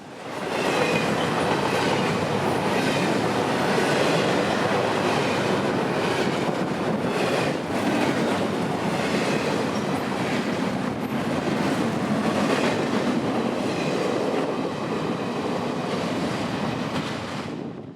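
Long freight train I-044, carrying general merchandise and UPS traffic in central Florida, rolls steadily past at close range, its continuous rumble mixed with clickety-clack of wheels and faint wheel squeal, with no talk over it.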